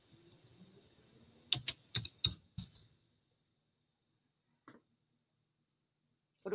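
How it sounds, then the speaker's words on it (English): Typing on a computer keyboard: a short burst of about five sharp clicks, close and fairly loud, then silence broken by a couple of isolated key taps. "What are we typing?"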